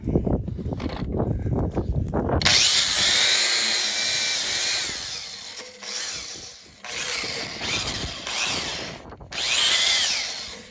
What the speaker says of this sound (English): Use the too big and too awkward angle grinders.